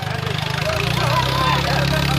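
A tractor engine idles and chugs with a low, pulsing rhythm at a stunt show, close and fairly loud, while someone talks over it.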